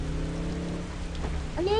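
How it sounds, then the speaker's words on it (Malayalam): Steady rain patters in an Indian GTA-style video game, a constant close hiss with a low hum beneath, and a voice begins to rise in right at the end. "നല്ല മഴയുണ്ട് കേട്ടോ"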